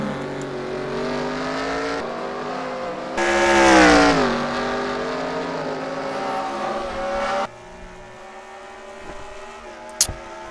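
Formula 1 race cars in a sim racing game on a road course, engines whining in high harmonic tones that climb and drop through gear changes. One car swells louder up close and then the engine note fades to a thinner drone.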